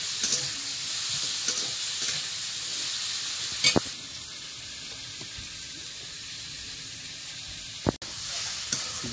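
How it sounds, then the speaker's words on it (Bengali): Ivy gourd and potato pieces frying in a pan, giving a continuous close sizzle and hiss with a couple of sharp clicks from the utensil. "এবারে এই কুঁদুলি আর আলুটা ভাজবো"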